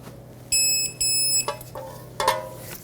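An electronic torque wrench sounds while a tie rod nut on a 2003-2012 Chevrolet Colorado 4x4 is tightened: two clear, loud, high-pitched beeps close together, followed by a brief clank and some tool handling.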